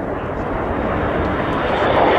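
A Frecce Tricolori solo jet roars past at an air display, a loud, steady, broadband engine rush that swells slightly as it nears.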